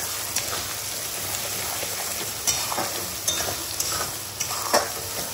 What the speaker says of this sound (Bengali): দিয়ে মশলাটাকে ভালো করে কষিয়ে নিতে হবে